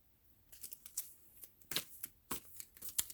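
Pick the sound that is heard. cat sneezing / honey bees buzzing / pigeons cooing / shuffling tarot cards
shuffling tarot cards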